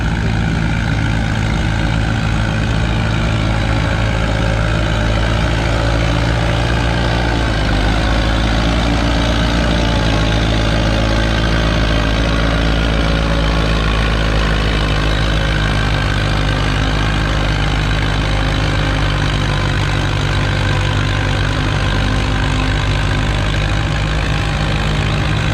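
Vintage Allis-Chalmers WD tractor pulling a sled at a tractor pull, its engine a steady, loud, low drone throughout with a brief dip near the middle, no voices over it.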